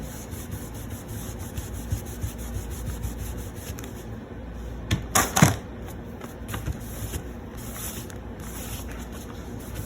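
A wood grain finish is rubbed by hand onto a craft project, a close, soft scrubbing texture with a few sharper brushing strokes partway through and no talking.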